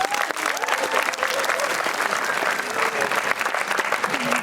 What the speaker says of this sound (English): please give a warm round of applause to Kyle Ashby